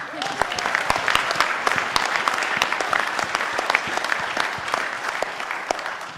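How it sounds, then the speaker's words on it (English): An audience at a public debate in Auckland breaks into a big round of applause, loud, dense clapping with sharp individual claps near the front, carrying on steadily throughout. "Come on, big round of applause"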